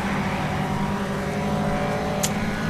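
A Volkswagen Scirocco race car pulls away in the racing game Need for Speed Shift, its engine a steady, droning hum held at high revs throughout.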